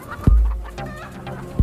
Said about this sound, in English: hens were just foraging for whatever kind of food items they could